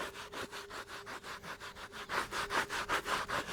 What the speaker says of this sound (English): I'm gonna start to scrub.